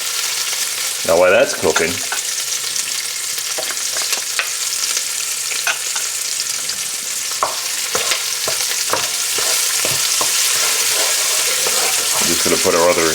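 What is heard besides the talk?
onions sweating and sizzling in a pan while stirred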